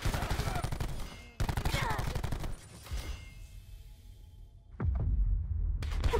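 Rapid automatic gunfire in the Black Ops 4 video game, dense crackling bursts with brief pauses between them, close and loud, while players talk over it.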